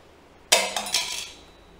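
A CD thrown onto a drinking glass in a party game, a sudden bright clink followed by a few quick rattling knocks as it falls, then a fading ring.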